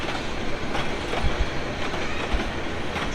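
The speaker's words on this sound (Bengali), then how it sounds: "এটা হচ্ছে সুবর্ণ এক্সপ্রেস ট্রেন" The Subarna Express train rumbles through Tongi station without stopping, loud and close, with a steady roar of wheels and faint rhythmic clacking throughout.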